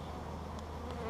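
Honey bees buzz in a faint, steady hum during a hive inspection done without smoke, with no voices.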